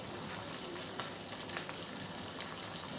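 Snake gourd poriyal with green chillies sautéing in a pan, a steady soft sizzle with faint stirring scrapes, low and continuous throughout.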